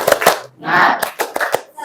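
A classroom of students doing a rhythmic spirit clap, several sharp claps in a patterned beat with a chanted group voice in the middle, close and loud.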